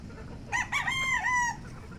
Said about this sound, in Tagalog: nag-iipon-ipon na naman ang mga manok sa range area dahil malamang gutom na naman